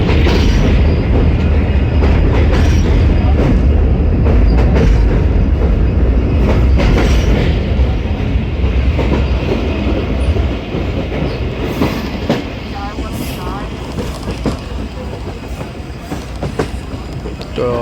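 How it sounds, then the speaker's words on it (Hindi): The Khyber Mail passenger train in Pakistan runs on rails through a curve at about 30 km/h, a loud, continuous rumble with rhythmic wheel clatter and occasional squeal, easing slightly in the second half. "30 किलोमीटर की रफ्तार से जाएगी इस कर्व से हमारी वन अप खैबर मेल।"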